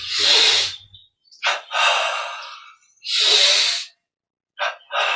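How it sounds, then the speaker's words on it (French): Breathing exercise done with arms stretched forward, loud close breaths through the nose and mouth in paired rushes, a double inhale followed by long exhales, with pauses of silence between them. "Bras tendus devant, double inspire."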